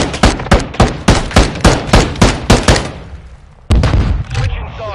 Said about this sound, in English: upstairs shooting